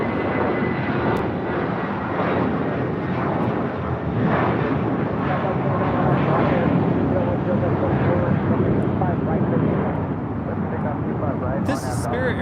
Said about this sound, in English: This is Spirit Airlines 2368 taking off to Detroit on an A320.